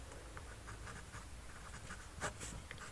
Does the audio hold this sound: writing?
yes